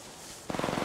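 Gunfire in Apex Legends Mobile, played on an iPhone X with a controller: after a brief quiet lead-in, a rapid burst of close, loud shots fires in a steady rhythm.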